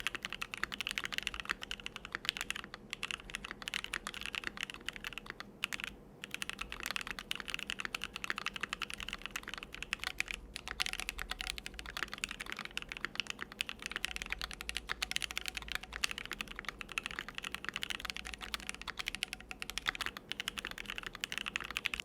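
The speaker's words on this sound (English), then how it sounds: "The board no longer sounds like a tin can, and I don't find it all that hollow" Rapid, steady typing on a modded Keychron Q1 mechanical keyboard with a force break, polyfill and PE foam fitted, giving a dense run of close, crisp keystrokes with a soft, muted thock and nothing else audible.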